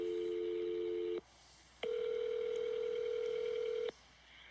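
A telephone number is dialed, giving two sustained touch-tone beeps separated by a short gap, clear and close with low background hiss.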